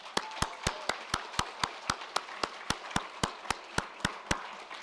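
Single person clapping at a steady, even pace for a virtual graduation celebration, about twenty crisp claps close and fairly quiet, with no crowd behind them.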